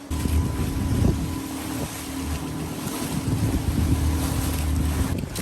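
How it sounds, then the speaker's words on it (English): Fishing boat motoring on the sea off Bali, a steady engine drone mixed with wind and wave wash, loud and continuous without talk. "Okay, so this is the boat."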